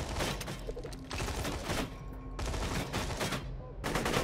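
Gunfire in Borderlands 2, loud sustained automatic fire with dense overlapping shots and brief pauses, continuous and close throughout.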